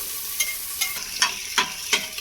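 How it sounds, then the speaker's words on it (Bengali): Onion frying lightly in a pan for mutton leg soup, a steady close sizzle with five evenly spaced spoon scrapes against the pan in a regular stirring rhythm. "পেঁয়াজটাকেও দিয়ে আমি ওই হালকা মতো একটু ভেজে নেব"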